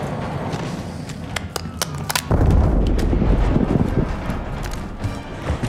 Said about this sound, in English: Frag throw.